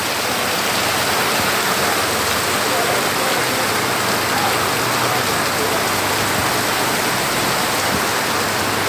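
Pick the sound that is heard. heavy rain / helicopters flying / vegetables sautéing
heavy rain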